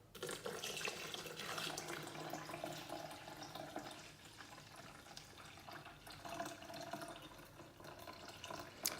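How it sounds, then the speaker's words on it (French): Water pours steadily into a Thermomix bowl being filled on a scale for harira soup, a continuous close splashing rush that carries on alone without a break. "je vais sur ma balance et je mets mes 1000 g d'eau"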